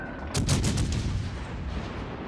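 Warship guns fire at the battleship Alabama in World of Warships Legends: a sudden heavy salvo bursts out and then rumbles away into a lingering roar.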